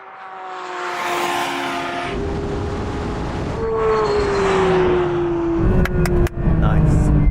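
A Porsche 911 GT3 launches and accelerates hard, its engine note climbing steadily in pitch through the gears, loud and close, with a sharp shift near the end.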